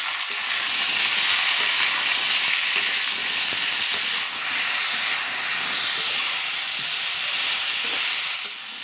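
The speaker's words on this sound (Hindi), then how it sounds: "आइए अब आलू फ्राई करते हैं।" Potatoes fry in hot oil while village fish curry is being cooked, a loud, steady sizzling hiss that runs unbroken throughout with no talking.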